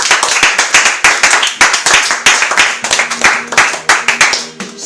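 A church congregation claps loudly and rhythmically together with a few voices and cheers mixed in, close and energetic for several seconds.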